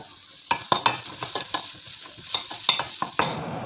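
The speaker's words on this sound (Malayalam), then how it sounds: "ഈ നാളികേരത്തിലേക്ക് നമുക്ക് ഒരു ടേബിൾ സ്പൂൺ ചുവന്നുള്ളി അരിഞ്ഞതും ഒരു ടേബിൾ സ്പൂൺ വെളുത്തുള്ളി അരിഞ്ഞതും ചേർത്ത് കൊടുക്കാം ഇത് നന്നായി വറുത്തെടുത്തേക്കാട്ടോ" Chopped shallots and garlic frying with grated coconut in a pan for a cashew nut curry, a steady sizzle broken by repeated sharp scraping stirs, close and alone with no talk.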